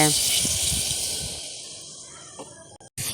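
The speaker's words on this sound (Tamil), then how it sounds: "இப்போது தேவையான அளவுக்கு நம்ம தண்ணி சேர்த்துடலாங்க" Water is poured into a cooking pan for pudalangai paruppu sadam, a snake gourd and lentil rice dish, giving a brief hissing gush at the start that fades over a few seconds, with a voice speaking faintly at the beginning.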